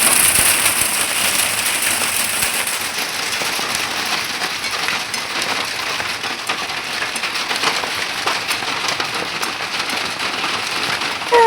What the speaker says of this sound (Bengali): ভীষণ পরিমাণে বৃষ্টি হচ্ছে, রীতিমতো আমার ভয় করছে এখন বৃষ্টি দেখে।